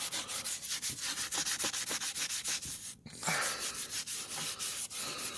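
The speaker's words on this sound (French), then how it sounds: "Et on va essayer de frotter avec une éponge." A sponge scrubs a car wheel rim in steady back-and-forth strokes, a close, continuous rubbing rhythm with one brief pause partway through, no voices.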